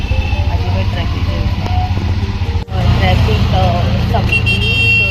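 Steady road traffic rumble with engine drone and occasional car horn toots, heard close from an auto-rickshaw on the highway near Vashi APMC market in Navi Mumbai, with people talking over it.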